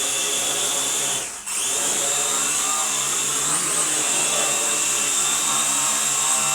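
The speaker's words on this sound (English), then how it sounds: "This is the best one of these non-professional quadcopters I've ever flown" An Air Hogs Star Wars speeder bike quadcopter drone flies close by with a steady, loud, high-pitched whine of spinning propellers that briefly dips before holding constant.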